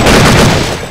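A loud, dense burst of rapid gunfire from the video game Counter-Strike Condition Zero, filling a single second with continuous close shots that ease slightly at the end.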